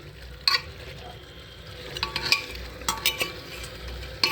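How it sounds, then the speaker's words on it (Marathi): Mutton sautéed with turmeric and salt in a pan gives a low sizzle, broken by scattered clinks and scrapes of a metal spoon stirring, fairly faint and close. "आता हळद मीठ टाकून हे आता हलवलेलं आहे. असं असं परतून घ्यायचं हळद मीठ टाकून."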